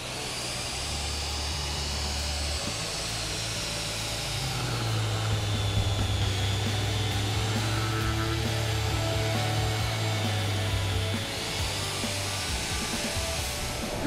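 A EUROBOOR ECO-TUBE.30 magnetic drill runs continuously with a steady whirring motor hum whose pitch shifts slightly midway, fairly quiet and heard alone.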